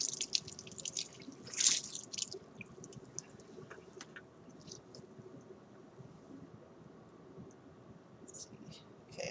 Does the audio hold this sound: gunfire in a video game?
no